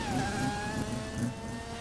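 GTR car mod in Farming Simulator 17 driving along, its engine giving a steady mid-pitched drone that wavers slightly with throttle, moderately loud and continuous.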